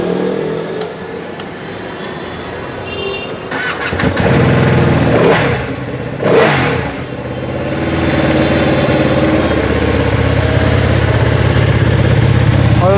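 A sports motorcycle engine starts up with a few throaty revs, then settles into a loud, steady running rumble close by, with faint voices underneath.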